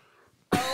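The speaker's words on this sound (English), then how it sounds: "Apologize for coughing into the microphone, but that happens sometimes." After a near-silent pause, a single sharp cough bursts close to the microphone, loud and abrupt.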